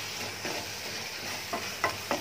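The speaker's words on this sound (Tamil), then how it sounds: "ஃப்ளேம் கொஞ்சம் லோவாக வச்சு இந்த மசாலாலாம் நல்லா ரோஸ்ட் ஆகுது" Masala spices roast in oil in a pan over a low flame, giving a close, steady sizzle with a few soft scraping stirs near the end.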